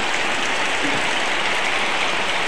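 Steady rain falling outdoors, a dense, even hiss at fairly close range that holds without a break and with no voices.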